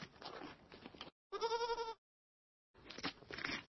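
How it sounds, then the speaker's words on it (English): A goat bleats in three separate calls: a short rough one, then a clear wavering bleat, then a longer harsh one after a pause. Each is close, moderately loud and heard alone with silence between. "Goat."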